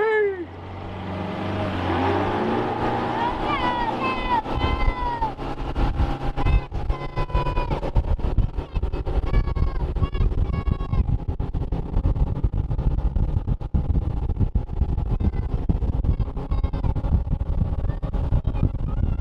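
A Tracker Targa V19 and an Alumacraft Competitor 185 fishing boat, each with a 150 outboard, race side by side. Loud, roaring engines climb in pitch with whining tones over wind and water rush throughout.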